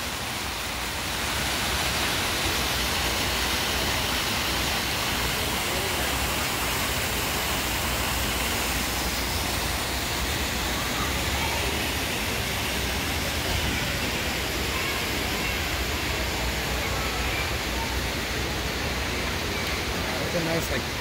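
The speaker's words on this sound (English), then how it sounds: "There's the freshwater aquarium and the waterfall." Water splashes steadily down an indoor waterfall beside a freshwater aquarium inside a large outdoor-sporting-goods store, a continuous broad rushing hiss that stays constant and close throughout with faint store murmur underneath.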